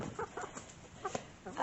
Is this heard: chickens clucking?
yes